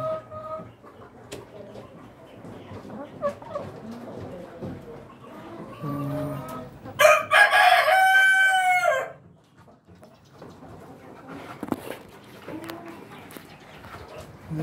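A rooster crows loudly for about two seconds, with chickens clucking before and after in a breeder cage of egg-laying hens on a farm, alongside faint background talk.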